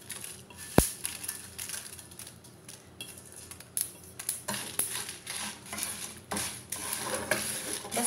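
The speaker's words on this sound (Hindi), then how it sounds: "बस हल्का रोस्ट करना है धीमी आंच पे" Spices and chili lightly roasting on a low flame while a spoon stirs, with a sharp clink then repeated scraping and tapping against the pan over a faint sizzle.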